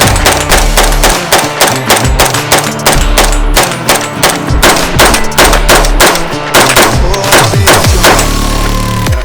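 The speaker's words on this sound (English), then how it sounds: "whenever you're shooting steel, especially when you're shooting high velocity rounds at steel, you definitely don't want to be too close to it" A CMMG Banshee AR-15 in 4.6x30mm fires a long string of rapid, loud, close shots at steel targets, closely spaced cracks running almost the whole time.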